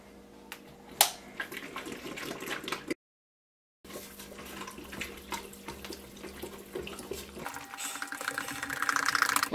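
Bottled water poured into alginate powder for casting, a close, uneven splashing trickle with brief louder gurgles, a short silent gap midway, then pouring resumes and swells toward the end.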